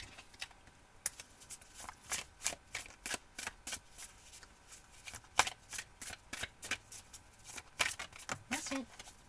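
Oracle cards being shuffled by hand make a quick, close series of crisp riffling snaps and flicks, steady and rhythmic for several seconds, with someone speaking softly at times.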